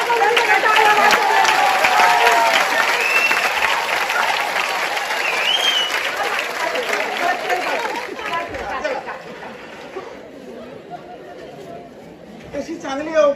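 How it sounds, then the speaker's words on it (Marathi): Dense audience applause at a Marathi stage play, loud continuous clapping mixed with crowd chatter that thins and fades after about ten seconds, leaving scattered claps and murmurs. "सगळ्या टाळ्या वाजवल्या"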